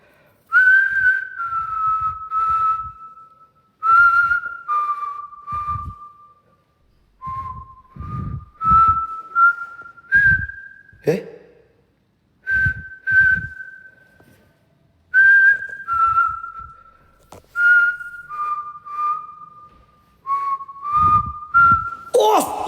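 A person whistles a slow melody of sustained, gliding tones in short phrases separated by pauses, loud and close, with faint background noises in the gaps.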